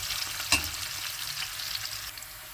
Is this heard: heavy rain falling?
no